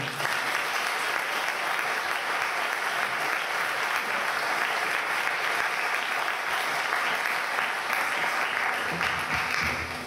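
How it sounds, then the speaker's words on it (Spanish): An audience at a PechaKucha Night presentation evening in Ferrol breaks into sustained applause, a dense, steady wash of clapping that fills the whole stretch without letting up. "Un fuerte aplauso."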